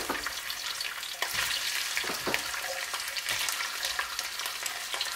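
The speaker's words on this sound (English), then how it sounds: "So we're going to go ahead and fry our meat." Meat frying in hot vegetable oil in a pot for Cameroonian jollof rice, a steady close crackling sizzle with brief stirring scrapes and no voices.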